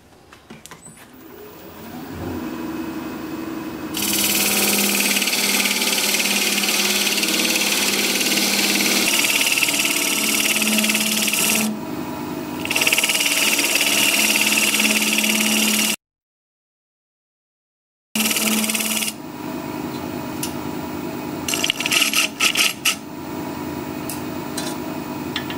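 A wood lathe spins a Russian olive spindle while a tenon is cut, making a steady, loud motor drone with a rough scraping layer that changes as the cut goes on. There is a short break of silence partway through, then the turning and tool noise resume.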